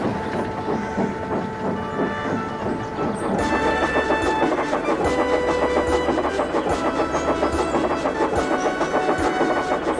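A steam locomotive chugs steadily along the rails through countryside, its rhythmic puffing and hiss building and staying loud and continuous, with faint whistle-like tones above.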